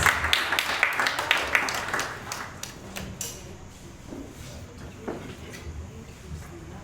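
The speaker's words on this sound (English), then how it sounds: "let's give a round of applause for Mr. Anthony Tenua" An audience applauds a speaker taking the stage at an evening event, with dense clapping loud at first that thins and fades to scattered claps and room noise.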